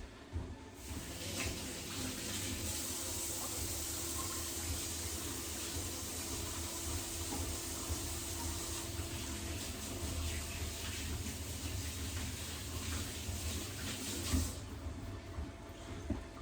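Water runs steadily from a kitchen tap as hands are washed during peanut brittle making, a constant hiss that continues for about fourteen seconds, then cuts off.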